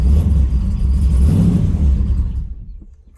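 A 6.0L WS6 car engine revs with a deep, loud rumble, the throttle held for about two seconds and then released as the sound drops away.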